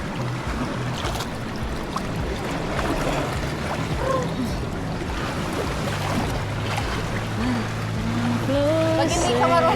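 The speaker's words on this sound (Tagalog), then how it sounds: "Pero malakas yung alon." Strong sea waves at a Montenegro beach wash and churn around a swimmer, a steady broadband rush of water lasting throughout, with voices talking over it.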